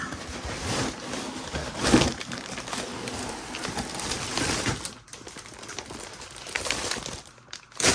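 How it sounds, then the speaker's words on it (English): Plastic bags from a LEGO Star Wars Mandalorian N-1 Starfighter set being pulled out of the box and handled, with close, continuous crinkling and rustling and sharper crackles throughout. "Let me just pull out all these bags."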